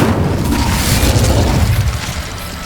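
An Incendio fire spell from Hogwarts Legacy bursts with a loud, rumbling boom that holds briefly and then fades over a couple of seconds.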